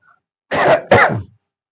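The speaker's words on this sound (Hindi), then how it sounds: "ये खांसी परेशान करके रख दिया" Two quick, harsh coughs in close succession, near and fairly loud, with quiet before and after.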